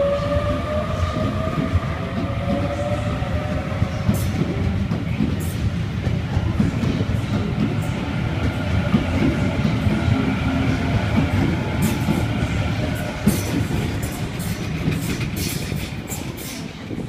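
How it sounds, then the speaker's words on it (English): A Sydney Waratah A50 electric train departs Parramatta station platform 4, a steady rumbling roar of motors and wheels that holds loud and close throughout, with rising whine tones and occasional metallic clicks on the rails. "Waratah A50 is now departing platform 4, Richmond service."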